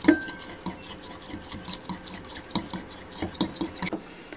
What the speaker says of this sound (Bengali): এখন আমি ডিমটাকে মিক্স করে নিচ্ছি।